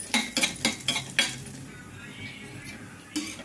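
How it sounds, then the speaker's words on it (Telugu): Toor dal being dry-roasted and stirred in a pan, a quick run of about five metal scrapes and clinks, then a quiet lull before one more scrape, close and with no talking. "ఇప్పుడు కందిపప్పు మంచి స్మెల్ వచ్చేదాకైతే వేపుకోవాలండి."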